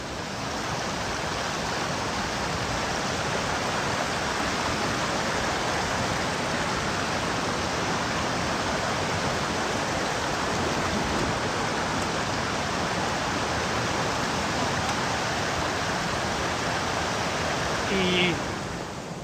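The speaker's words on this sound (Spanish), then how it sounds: "El río viene con mucha fuerza, con mucha agua" A swollen, powerful river rushes near Hengifoss waterfall in Iceland, a loud, steady broadband roar of churning water that fills the scene without pause.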